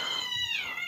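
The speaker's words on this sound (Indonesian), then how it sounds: "Ada kucing." A cat meows near a room where someone is talking, giving one drawn-out, wavering, harmonic cry that rises and then slides down and fills the whole short moment.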